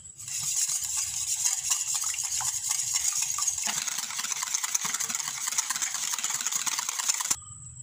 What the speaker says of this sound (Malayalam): എഗ്ഗ് നന്നായി അടിച്ചെടുത്തിട്ടുണ്ട്.